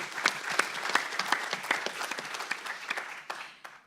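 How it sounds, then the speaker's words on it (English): Audience applause at a panel event with athletes, a brief round of crisp clapping from a small-to-medium crowd that thins out and fades near the end. "So, round of applause for Phaedra."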